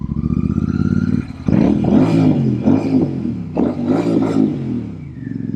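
A Royal Enfield Super Meteor motorcycle fitted with center pegs and forward controls revs its exhaust up close: a loud, throaty engine idle, then repeated rising and falling throttle blips with a rumbling harmonic growl.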